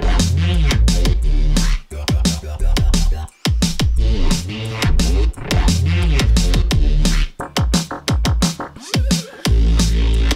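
Drum-and-bass production with newly layered drums, crisp cutting hits pounding in a fast, busy pattern over heavy bass, loud and upfront with a couple of brief dropouts and no voices.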